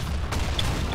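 A bomb goes off in a video game as a single broad, rumbling boom that lingers under steady game noise and chatter, with a short pop partway through.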